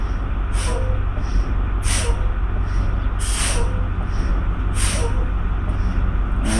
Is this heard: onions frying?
no